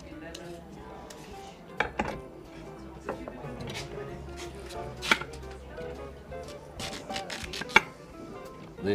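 A knife chops peeled sweet potatoes into quarters on a cutting board, giving scattered sharp knocks with faint kitchen clatter in a quiet room, and voices talking now and then.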